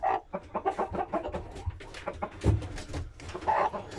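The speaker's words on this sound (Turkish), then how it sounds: "kurk yatan tavuğumuz sadece iki tane civciv çıkarmış" A broody hen clucks in a coop where two chicks have hatched. The calls are close, repeated and irregular, with some softer chirps mixed in.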